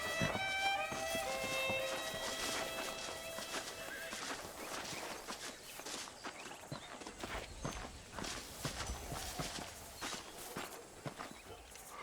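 Horse hooves clip-clopping in the video game Red Dead Redemption, a steady walking rhythm of close hoofbeats, with a whinny near the start and faint voices in the background.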